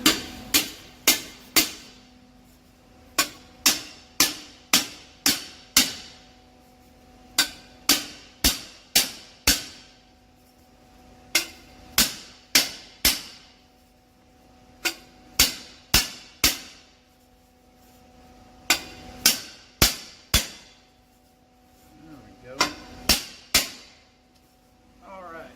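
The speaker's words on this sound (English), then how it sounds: "We're going to beat it on the ground so we can slide it all the way up." A 5-inch exhaust tip being fitted onto a straight pipe on a Ram 5.7 Hemi is beaten against the ground, loud sharp metallic clangs that come in quick bursts of three or four, close and repeated many times.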